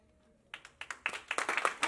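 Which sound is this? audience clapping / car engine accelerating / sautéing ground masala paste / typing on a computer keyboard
audience clapping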